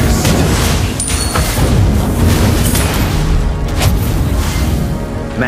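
Valir's Lava Burst fire skill in Mobile Legends: Bang Bang, dense rumbling booms and fiery blasts packed close together, loud and continuous, with sharp bursts breaking through.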